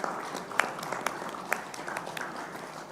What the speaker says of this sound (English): can we have a huge round of applause for each and everyone present over here?